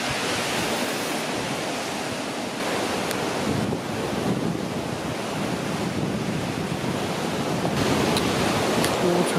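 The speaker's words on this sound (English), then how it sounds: "Water running down" Water runs down a cliff edge on the West Somerset coast, making a loud, continuous rushing wash with wind buffeting the microphone and no speech.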